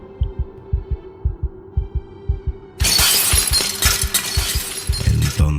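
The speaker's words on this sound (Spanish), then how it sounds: "Entonces el sonido de vidrio quebrándose lo sacudió como una descarga eléctrica" A mirror shatters suddenly and loudly, its breaking glass crashing and tinkling for several seconds over a steady, throbbing heartbeat-like pulse that runs through the whole stretch.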